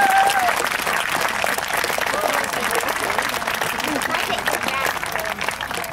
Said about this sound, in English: Go on, let's give a round of applause.